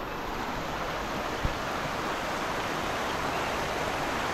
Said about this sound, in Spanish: El río Paz se desborda por varios puntos, diferentes lugares,